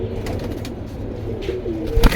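Low pigeon coos murmur steadily at close range, with light rustling and a brief flutter near the end.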